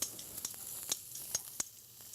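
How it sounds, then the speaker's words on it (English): Food browning in a hot pan before finishing in the oven, a soft steady sizzle with a few sharp crackles and pops standing out, heard close and alone. "I got a nice hot pan. I'm just going to brown that off"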